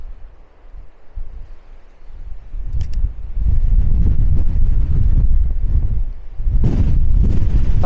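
Wind on a greenway, starting as a soft rush and building into heavy, rumbling gusts buffeting the microphone, with brief rustling bursts along the way and no talking.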